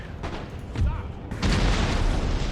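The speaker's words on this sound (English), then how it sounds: "This canister though, firing down the side of their lines is nice." Canister shot from artillery fires in the Empire: Total War video game, a British campaign battle. Booming blasts and scattered gunfire crackle layer over each other, with a strong burst near the middle and a heavier one toward the end.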